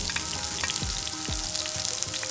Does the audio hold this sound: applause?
no